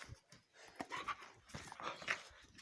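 Puppies scuffling and panting nearby, with soft whimpers and squeaky yelps over quick patters of movement, fairly quiet and no speech.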